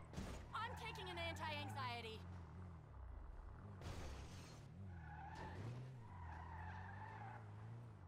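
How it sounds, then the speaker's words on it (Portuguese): Tires screech in a quick series of squeals from a racing car in Grand Theft Auto V, with engine noise and a crash-like burst, while a person talks over it. "É um carro"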